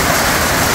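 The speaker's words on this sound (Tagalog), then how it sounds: "may dalang ulan din guys" Steady rain pours down in a cold, heavily fogged place, a dense continuous hiss close by with a low rumbling undertone and no break.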